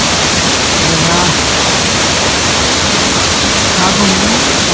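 A waterfall on a gorge trail rushes as steady, dense broadband noise throughout, filling the whole scene with no pauses; a faint voice hums or speaks low beneath the roar.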